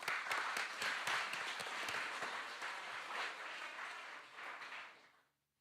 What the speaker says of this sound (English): So a big clap to them as well.